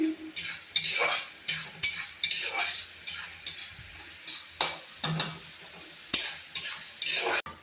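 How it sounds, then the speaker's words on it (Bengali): Dal fries in a pan over low heat while a utensil stirs it, about a dozen distinct scraping strokes against the metal over a constant sizzle, close and clear. "তো ডালটা এবার ফ্রাই হয়ে গেছে"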